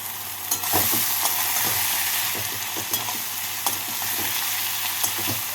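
Radish greens with bori stirred in a hot pan, a loud steady sizzle broken by repeated scraping and clattering strokes of the spatula, with no voices.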